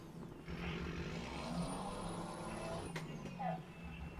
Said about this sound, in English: Isn't my truck loud?